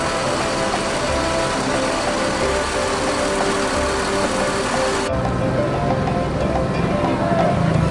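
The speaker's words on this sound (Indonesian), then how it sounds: "Masuk lagi ANS unit keempat, ANS dengan julukan Alika dari Jakarta di Terminal Bare Solok" An ANS bus nicknamed Alika, from Jakarta, arrives at Bareh Solok terminal with a loud, continuous engine rumble amid bus-terminal noise and a voice talking over it.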